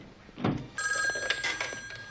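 An old-style telephone bell rings in a busy office scene in the film Ghostbusters, a bright metallic trill starting partway in over faint background noise.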